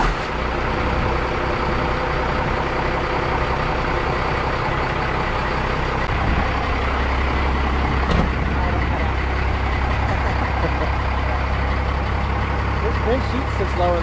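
A first-generation Cummins diesel pickup truck engine runs at a steady, loud, low rumbling idle for the whole stretch, with a brief change in tone partway through and no clear speech above it.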